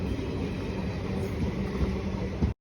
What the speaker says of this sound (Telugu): స్టన్ అవ్వకండి, అది మా ట్రైనే.